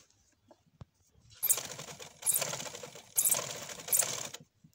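A sewing machine stitches lace onto a fabric hem in four short close bursts of rapid mechanical whirring, separated by brief pauses, with no talk.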